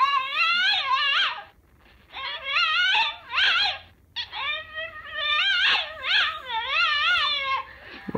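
A dog whimpers and yips in a run of high, wavering whines and short cries, close and loud, with brief pauses between bursts and no talking.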